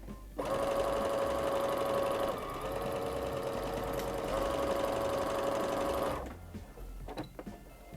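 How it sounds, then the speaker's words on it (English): A sewing machine stitching fabric for snowball and snowman crafts, a steady loud whirring run for about six seconds before stopping. "I'm going to sew all my sides on one side."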